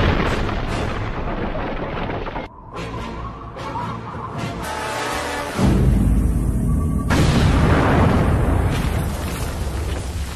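A deep, rumbling explosion with sustained roaring and crackling debris, loud and continuous, swelling again midway as the blast rolls on.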